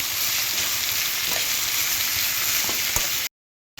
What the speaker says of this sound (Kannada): ಬೇಯಿಸಿಟ್ಟಿರೋಂತಹ ಹೀರೆಕಾಯಿ ಮತ್ತು ಬೇಳೆನ ಇದಕ್ಕೆ ಸೇರಿಸ್ಕೊಂಡು ಚೆನ್ನಾಗಿ ಇವಾಗಷ್ಟು ಮಿಕ್ಸ್ ಮಾಡಿ.